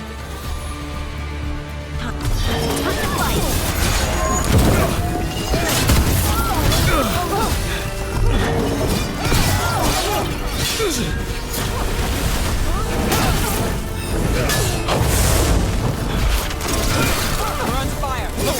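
Sustained combat in the video game Dragon Age: The Veilguard, with dense, loud crashes, booms and rattling impacts layered continuously for many seconds over a busy, cluttered background.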